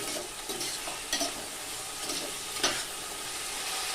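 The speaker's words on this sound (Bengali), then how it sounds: "আলু টমেটো দিয়ে আবার একটু নেড়ে চেড়ে দেবো" Potatoes and tomatoes frying and being stirred in a pan for a lau shaak dish: a steady, close sizzle with a few soft scraping stirs cutting through it, and no talking.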